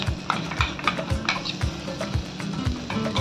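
A spoon stirs fried onion paste in a pan as it sautés, giving repeated rhythmic scraping knocks at an even pace over a faint sizzle.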